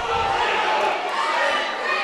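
A crowd roars and cheers in a gym at a high school boys basketball senior night, Dos Pueblos against Pacifica, a loud sustained swell of voices with shouting from the stands and no clear commentary over it.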